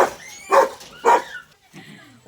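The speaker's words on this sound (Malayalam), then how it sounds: "മുട്ടൻ പട്ടി. എന്തൊരു പട്ടിയത്?" A big Rottweiler barks in three deep, loud, close woofs spaced about half a second apart, followed by a softer whine.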